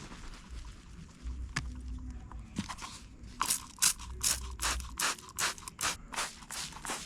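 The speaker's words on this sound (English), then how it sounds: "so I spray it down with the soap liquid." A spray bottle fires a rapid series of short hissing spritzes of soap liquid onto pepper plants, about a dozen bursts in an uneven rhythm, close up with faint rustling between.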